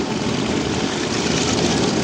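Early Grumman biplanes taxi past with propeller engines running, a steady loud droning roar that stays dense and constant, close by at an airshow at Duxford, no voices.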